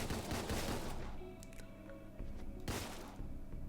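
Gunfire from a gun in the video game DeadBolt, quiet bursts of shots opening the clip and again near the end, mixed into a game soundtrack with no talk.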